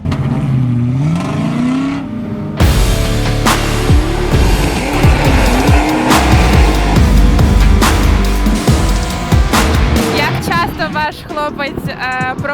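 A BMW drifting in circles, doing donuts in a parking lot, with repeated engine revs rising and falling and long tire squeals. It starts quieter, then bursts into loud, close sliding and acceleration that fades toward the end.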